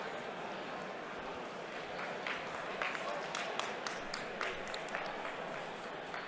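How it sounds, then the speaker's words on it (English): Scattered applause from spectators at a tabletop gaming tournament at a convention breaks out over a hall's steady crowd murmur, with clustered claps in the second half while commentators talk over it. "People are clapping for, I think it's L5R."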